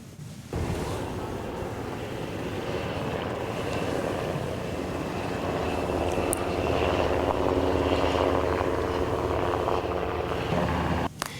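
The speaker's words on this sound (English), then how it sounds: "as the U.S. Coast Guard helicopter landed." A loud, continuous aircraft engine roar with rotor thrum builds and holds close by, as a U.S. Coast Guard helicopter comes in to land at an airport, mixed with wind noise.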